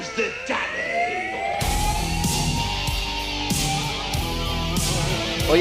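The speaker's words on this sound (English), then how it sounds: "Well, you hear the sirens, folks." Rising and falling sirens wail for the DCW Heavyweight Champion's wrestling entrance, then loud, pounding entrance music bursts in and carries on over the siren tones.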